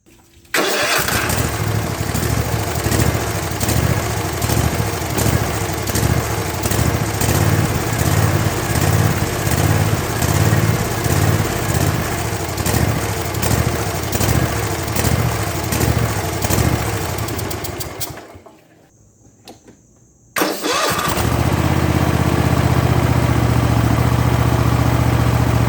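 Zero-turn lawn mower with a Kohler 7000 series engine, running steady and close with a throbbing mid-pitched drone, briefly dying away, then restarting promptly and settling into a smooth idle.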